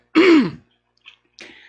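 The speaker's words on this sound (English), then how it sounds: "Just give me a second to give a good cough" One throat-clearing cough from a man on a news talk show, a single loud rasping burst followed by two faint small clearing noises, close and alone with no other sound.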